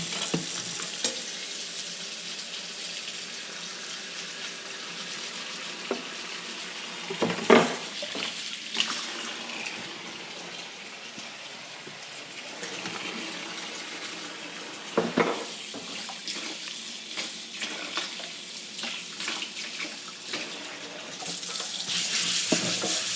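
A knife is washed under a running kitchen tap, a steady broadband rush of water with a few brief clinks and splashes standing out, close and fairly loud.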